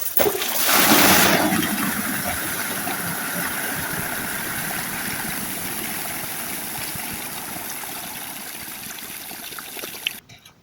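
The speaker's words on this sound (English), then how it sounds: "I'm going to show you how you'll release the water. You just grab this quick release, give it a tug." Water gushes out of a chairlift water tender after its quick release is pulled, a strong rushing pour at first that settles into a steady continuous flow and trickle for several seconds, with no talking.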